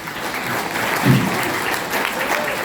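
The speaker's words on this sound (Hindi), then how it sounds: "मुझे थोड़ी बहुत तालियां मेरे हिस्से में आई उसके लिए बहुत बहुत शुक्रिया" An audience claps steadily throughout at a Hindi poetry recital held for Dinkar Jayanti, the applause moderately loud and continuous from start to end.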